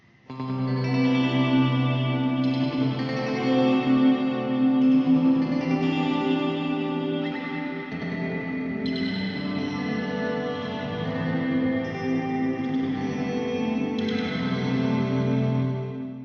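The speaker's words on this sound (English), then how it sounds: "The delay and reverb for this one are mixed in just a little bit harder" Sustained electric guitar chords ring out with heavy delay and washy reverb, notes smearing into an ambient swell that continues without pause.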